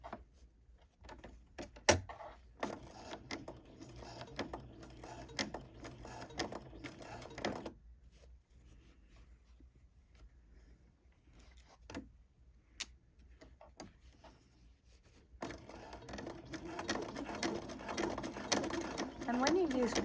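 A sewing machine stitches across tote bag straps on a bag with gussets and lining, running in steady bursts early on, easing off through the middle, then returning louder and more continuous toward the end.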